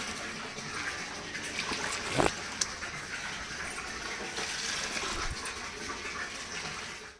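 Water from a motor pump pours steadily into an almost full home storage tank, a continuous close splashing rush with a couple of brief louder knocks, and no one speaking.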